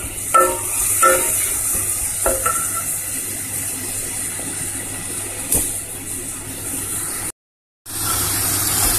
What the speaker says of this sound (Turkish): Soğanı ve zeytinyağı güzelce kavuruyorum